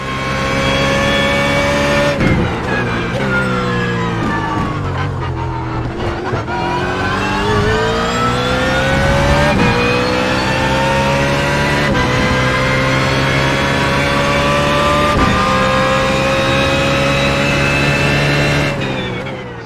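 A race car engine in the iRacing sim roars loudly and continuously through a session, its pitch sweeping up and down through gear changes and corners.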